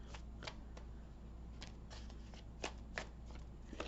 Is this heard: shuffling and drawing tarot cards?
yes